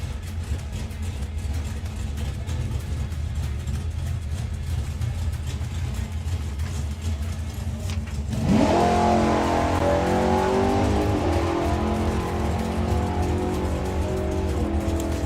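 A Nostalgia Superstock drag racing car sits with its engine running at a strip, then launches hard with a sudden rising roar about halfway through, loud and close, sustaining a strained high-revving engine note as it pulls away.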